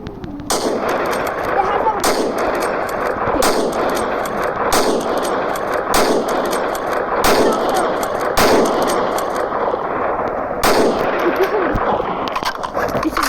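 Rapid bursts of gunfire from a Minecraft battle royale game ring out in loud repeated volleys over a steady noisy background, with sharp broadband cracks recurring about once a second.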